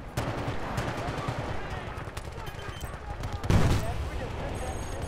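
Gunfire from an F2000 rifle in a Battlefield Bad Company 2 multiplayer match: rapid, close rattling shots keep up throughout, with a louder, heavier blast landing just past the midpoint.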